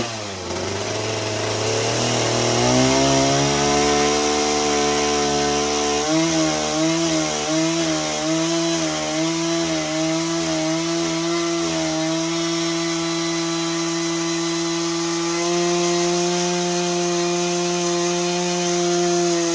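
Stihl MS170 chainsaw carving wood into a bear figure, a loud continuous engine whine that rises and falls as the saw revs and bites into the wood, ending in a steady high rev.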